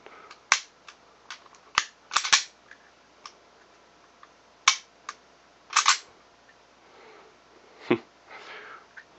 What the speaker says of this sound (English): even with the gun this far back, it still released the striker